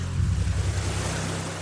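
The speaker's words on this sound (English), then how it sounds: "the ocean opens up before them, caressing the sandy beach with each rolling wave" Ocean waves roll onto a sandy beach as a steady, broad wash of surf with a low rumble underneath, continuous and fairly loud throughout.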